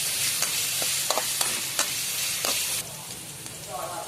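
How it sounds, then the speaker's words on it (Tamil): Chopped ingredients sautéing in a pan until golden, with a steady close sizzle and several sharp scrapes and taps of a spatula stirring, quieter toward the end. "நல்லா வதங்கணும் அப்படி நல்ல ஒரு பொன்னிறமாக வர வரைக்கும் நல்லா வறுத்துக்கலாம்"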